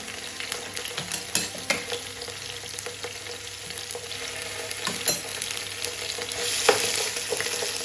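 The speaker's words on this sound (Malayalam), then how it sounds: "അതേ ഫ്രൈ പാനിൽ കുറച്ച് എണ്ണ കൂടി ഒഴിച്ചിട്ട് ഇഞ്ചി വെളുത്തുള്ളി പേസ്റ്റ് ഇട്ട് കൊടുക്കണേ" Ginger garlic paste fries in oil in a fry pan, a steady close sizzle and crackle with scattered sharper pops and stirring scrapes, slightly louder toward the end.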